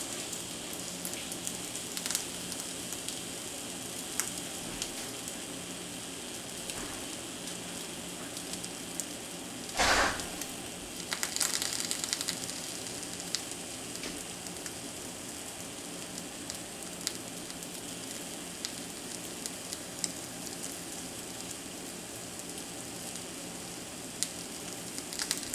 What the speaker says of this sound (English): Oh, my eggs are boiling from my boiled egg.